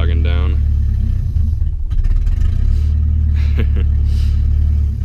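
Turbocharged rally car engine fed propane, rumbling close and loud as its revs sag and bog down, with someone talking over the running engine.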